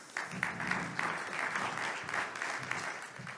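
Dense clapping from a crowd, moderately loud and sustained, with a few sharper individual claps standing out.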